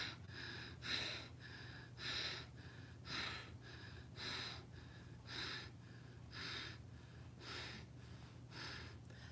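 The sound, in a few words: breathing in through the nose in a yoga exercise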